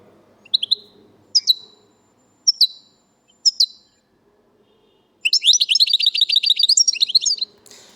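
A songbird in Algerian song training sings the 'leg leg' note: four separate short sharp chirps spaced about a second apart, then after a pause a fast, dense run of bright repeated trills, clear and close.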